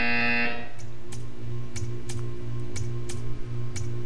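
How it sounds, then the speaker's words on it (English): A repeated buzzing tone from the Portal 2 video game sounds in a steady on-off rhythm, with a brief electronic chime at the start and faint clicks scattered throughout. "You will hear a buzzer."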